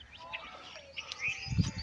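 Pigeons at a pigeon loft make brief chirps and calls, close and fairly quiet, with a low cooing burst near the end.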